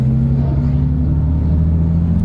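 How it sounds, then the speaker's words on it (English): Passenger-seat engine rumble from a Lamborghini, a steady loud low drone throughout with a brief shift in pitch partway through suggesting a downshift. "it does sound good when they downshift"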